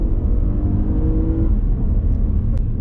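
A 2019 Toyota Highlander Limited SUV accelerates hard at full throttle, its engine giving a steady, loud rumbling drone with road noise heard from inside the cabin and no talking.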